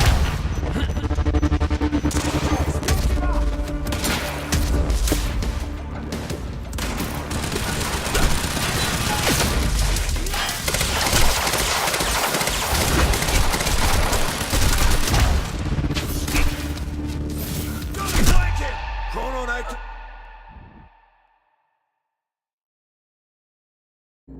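Dense gunfire from the video game Quantum Break: sustained rapid bursts and fusillades with heavy booms and mechanical clatter, loud and continuous for about twenty seconds before cutting off abruptly to silence.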